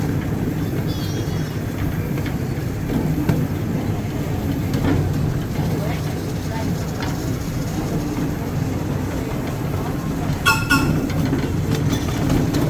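A small kiddie train ride at Niagara Amusement Park rumbles along steadily with faint rhythmic clatter, broadband mechanical noise throughout, and a brief squeal near the end.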